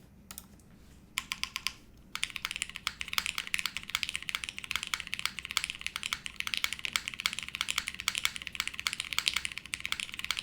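Someone types on the Harbour mechanical keyboard with oiled springs, at first a few isolated keystrokes and then a brisk, continuous run of crisp, close clicks and clacks, heard alone.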